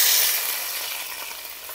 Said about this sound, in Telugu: ఇప్పుడు దీన్ని పచ్చిమిర్చి వేస్తున్నాను.